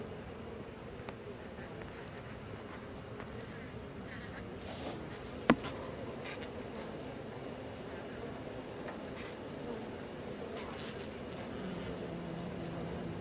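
Honey bees from an open hive during a midsummer inspection, a steady low buzzing hum that stays soft and even throughout, with one sharp click near the middle.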